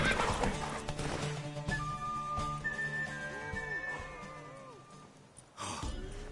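A horse in The Witcher III neighs and whinnies with a drawn-out, rising and falling call over steady clip-clop of hooves, close and clear, followed by a short snort.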